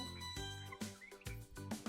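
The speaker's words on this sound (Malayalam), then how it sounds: "അതാണ് ടർക്കി കോഴിയാണ്" A turkey gobbles several times in quick, loud, rattling bursts, close by with short pauses between calls.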